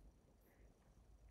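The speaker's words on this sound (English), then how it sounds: "Just now I've got this cough that won't go away." A single sharp cough from someone recovering from a recent COVID illness, sounding abruptly at the end after near silence.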